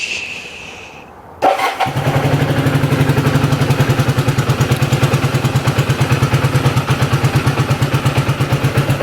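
Kawasaki KZ400 motorcycle running low on fuel: the engine fires up abruptly after a quiet moment and settles into a loud, close, rhythmic idle with an even, slightly uneven pulsing beat.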